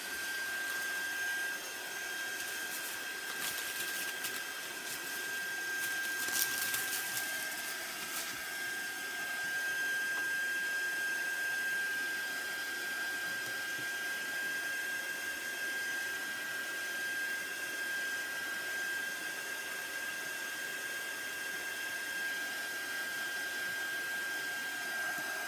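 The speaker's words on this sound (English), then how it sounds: "there's a lot of heat gun use in the middle here" A heat gun blows a steady, airy whoosh over paper wet with ink, droning continuously at low level with little change throughout.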